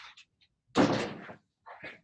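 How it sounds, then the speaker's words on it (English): An indoor door is pushed shut with a single firm thud, preceded and followed by faint shuffling handling sounds in a quiet room. "Let me just shut this door."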